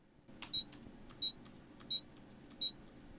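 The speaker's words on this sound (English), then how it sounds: "So I needed to isolate a single beep sound." A vending machine beep, isolated and cleaned up, sounds four times at an even pace of roughly one every 0.7 seconds: short, bright, clear electronic tones over faint background clicks.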